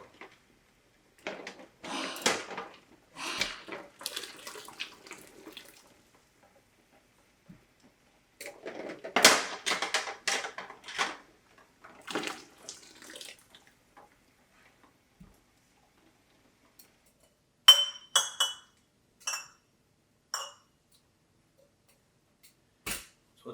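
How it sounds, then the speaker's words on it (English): Glass canning jars are lifted out of water in a pressure canning setup, giving scattered clinks, knocks and splashes in several bursts, close and quiet, with gaps of near silence between them. "So we're going to take all our jars out."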